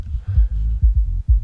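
Soloed kick drum and bass from a house groove, run through a FabFilter multiband compressor, pulsing as deep repeated thumps about every half second with a sustained low bass body between hits and no voices.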